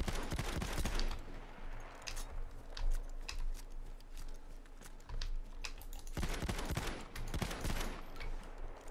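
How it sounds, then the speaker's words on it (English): The 12G Automatic shotgun in Battlefield 1 fires rapid bursts of loud shots with clattering mechanical handling sounds between them, and there is no talking. "the second primary weapon available for the Shock Assault is the 12G Automatic"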